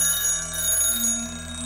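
An alarm clock rings with a steady, bright, sustained metallic tone that carries through the short moment at a fairly loud level, alone with no voices.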